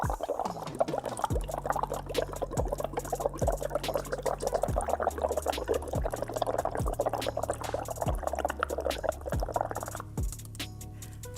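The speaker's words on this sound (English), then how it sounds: "what happens when you simply blow a little bit of air into the water?" Air blown into water makes a continuous bubbling, gurgling flow with regular deeper bloops about once a second, close and fairly quiet, with no talking.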